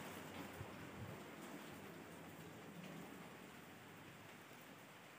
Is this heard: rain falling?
yes